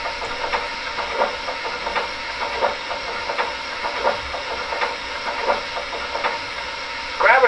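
An MTH Premier NYC Niagara model steam locomotive hisses and chuffs in a steady repeating rhythm, close and moderately loud, with a louder burst of steam at the end.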